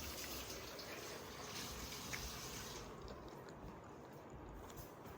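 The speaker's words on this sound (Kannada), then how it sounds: "ಆ ಬಾಂಡಿಗೆ ಒಂದು ಸ್ವಲ್ಪ ನೀರು ತುಂಬಿಡಪ್ಪ" Water runs steadily from a tap into a household cooking vessel, a continuous close rushing flow that lasts throughout with no talking.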